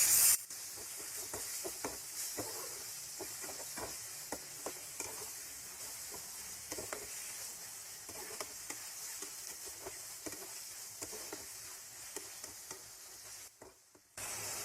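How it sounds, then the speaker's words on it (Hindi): Beef for a karahi fries in a pan with a soft, steady sizzle and hiss, dotted with frequent small crackles and spatula taps, fairly quiet and close, with no voices. "अब ये बीफ का गोश्त हम इसके अंदर ऐड करेंगे। इसको भी हम इसके अंदर भून लेंगे 2 से 3 मिनट के लिए।"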